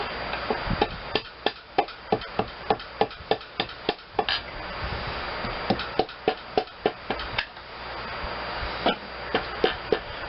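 Repeated sharp taps drive a piston into the cylinder of a Briggs and Stratton twin engine during a rebuild, about twenty close, evenly spaced knocks over a steady low background with no talk.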